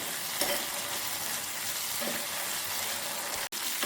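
Gandhari chillies fry in a pan for a brinjal gojju, producing a dense, even sizzle that holds steady close by, broken by a brief drop to silence near the end.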